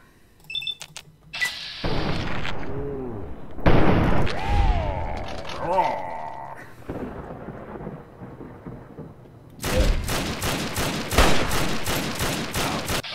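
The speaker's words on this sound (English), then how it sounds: "What are you firing? M14." An M14 rifle fires in the Fallout 3 video game, loud rapid shots in a dense burst toward the end, after stretches of rumbling game noise and voices.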